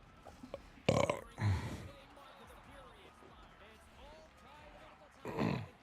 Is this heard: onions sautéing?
no